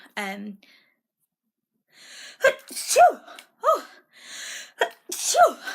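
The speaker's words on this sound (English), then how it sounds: "You just heard my sneeze." A single sharp sneeze, then a pause, followed by a person talking nearby.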